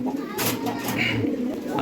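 Pigeons kept on a rooftop coo in soft low repeated calls close by, with a few brief higher chirps and a light background hiss.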